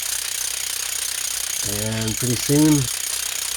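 A core drill cuts into a beveled concrete curb, keeping up a steady, loud, rattling grind that runs the whole time, while a voice speaks briefly over it.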